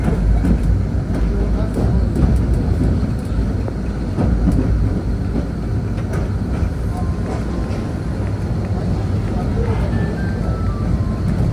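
Paryatak Express train running on the rails from Dhaka toward Cox's Bazar, a steady low rumble of wheels and carriage noise throughout, with voices murmuring faintly alongside.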